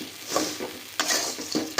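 Raw amla stirred in hot salt in a pan, with gritty scraping and rustling strokes and a faint sizzle, a few sharper scrapes standing out near the pan.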